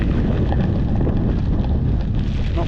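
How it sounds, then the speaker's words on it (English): Strong wind buffets and roars across the microphone in heavy, continuous gusts, loud and close, with no one speaking, on a fell walk between Black Sail and Grasmere in the Lake District. "it's pretty heavy gusts of wind"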